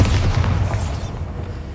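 Bombarda spell blast in Hogwarts Legacy: a loud, close explosive boom with heavy low rumble that rolls off and fades within a couple of seconds.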